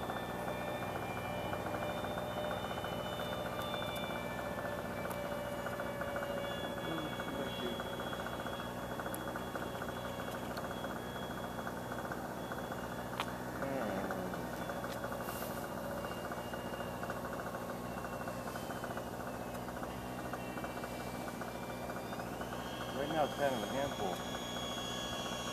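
An RC T-45 Goshawk jet with its stock ducted fan and stock motor, heard as a steady, thin whining hum that runs throughout with only slight changes in pitch. The sound stays fairly faint and distant, and voices talk over it.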